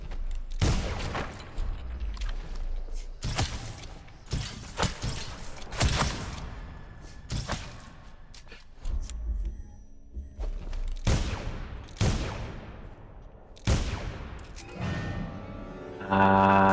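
Repeated loud blasts and booms burst through a combat scene in the stealth video game Dishonored, several sharp explosive hits spaced across the stretch with rumbling tails, and no talk over them.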